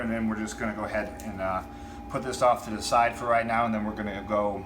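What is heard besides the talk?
No everyday noises stand out.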